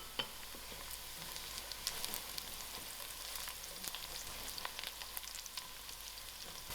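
Half-browned onions fry in a pan as biryani spice mix goes in, a steady close crackling sizzle with bright spitting pops across the whole stretch and no voices.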